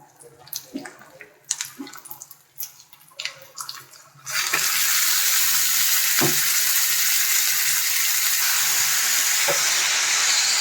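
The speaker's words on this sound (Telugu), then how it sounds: "ఇప్పుడు దీంట్లో కీమా వేసేసుకోవాలి." Mutton keema dropped into a hot pan with tomatoes, a few scattered clinks and handling noises giving way to a loud, sudden, continuous sizzle that holds steady, with an occasional utensil tap.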